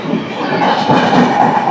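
A Bengaluru–Bhubaneswar express train runs alongside on the next track, a loud close steady rumble of wheels and carriages.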